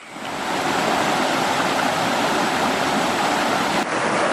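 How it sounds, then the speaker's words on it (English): Loud, steady broadband rushing of water beside a hiking trail near a bridge and rocks, a dense continuous roar close by with no talking. "I think you can hear me over the water"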